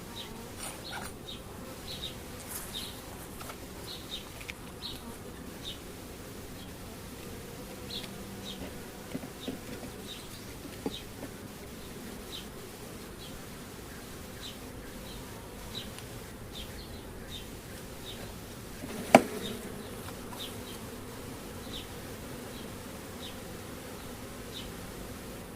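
Honey bees buzz steadily around an open hive frame during a pre-harvest inspection for American foulbrood, a soft continuous drone with individual bees flitting close by, and one brief sharp tap near the end.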